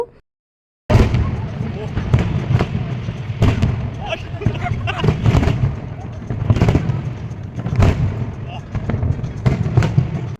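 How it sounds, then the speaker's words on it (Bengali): Fireworks burst again and again at Gardens by the Bay, Singapore, a steady run of sharp bangs and crackles over a noisy background of crowd murmur. "আর এদিকে এই যে আতসবাজি ফুটছিল"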